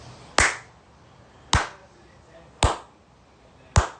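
Four loud, sharp hand claps ring out alone at a steady pace about a second apart, made by a teacher in a 5th-grade classroom.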